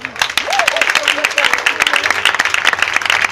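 A church congregation bursts into sustained applause acclaiming the Lord, loud and dense throughout, with voices calling out over the clapping.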